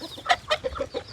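Chickens clucking nearby outdoors, a quick series of four or five short, sharp clucks in an uneven rhythm, fairly clear against quiet background.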